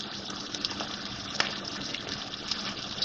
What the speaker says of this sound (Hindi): इसमें ये थोड़ा सा पानी डाल रही हूँ मैं, 3-4 टेबल स्पून।